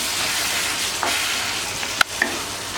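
Chicken uppu kari fries in a pan while being stirred, giving a continuous bright sizzle with a few sharp utensil scrapes and taps near the end.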